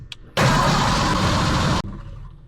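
A Cobra kit car engine cranking on the starter, one loud continuous burst of churning that stops abruptly without catching, preceded and followed by quiet.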